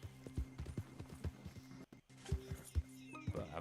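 Horse hooves clip-clop at an even walking pace in a video game, a run of soft thuds that pauses briefly and then resumes, fairly quiet under faint background game sound.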